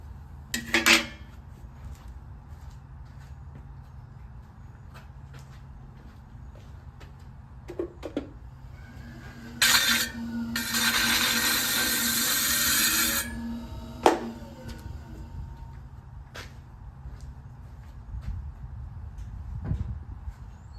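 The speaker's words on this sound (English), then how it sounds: "I'm gonna go scrape this off" Clay being scraped off a warped piece in a pottery studio: a few sharp knocks and brief scrapes, then a sustained, louder rasping scrape lasting a few seconds before scattered light taps, close and without talk.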